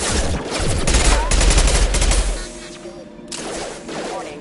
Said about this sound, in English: Hear that? Sounds like Fenris mechs.